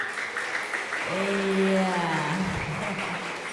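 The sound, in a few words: audience applause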